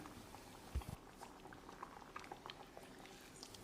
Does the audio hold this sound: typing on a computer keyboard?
no